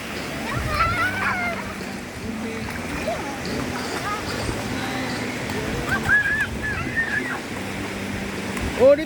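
Seawater at sea splashes and sloshes into a small boat, an irregular wet spattering close by, while voices, including a child's, talk over it.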